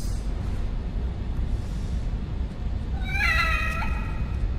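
A cat in the horror video game The Evil Within gives one short, clear meow near the end, over a constant low rumbling ambient background.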